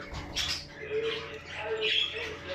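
Pigeons in a loft give several short squawks and chirps at moderate volume, close by, with a faint voice in the background.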